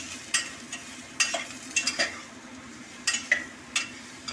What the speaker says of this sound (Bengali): এবার নুন আর হলুদটাকে ভালো করে লাউয়ের সাথে মিশিয়ে নিতে হবে।